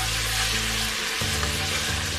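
Garlic and ginger fry in ghee with a loud, dense sizzle that fills the short stretch, steady and close, with a low hum underneath and no talk.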